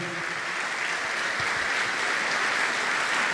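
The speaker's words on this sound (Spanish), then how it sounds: "Para ellos el aplauso." Theatre audience at a comedy show applauding the production, sound and stage crew, a dense continuous roar of clapping heard alone without speech.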